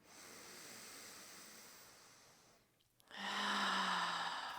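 Slow, deep breaths during a seated chair yoga session, a long airy exhale fading out, a brief pause, then a fuller, louder inhale close to the microphone.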